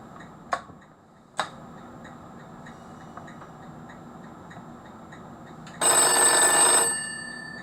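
An old telephone rings with a short, loud electric bell burst near the end, after two sharp clicks earlier on over a faint steady hum.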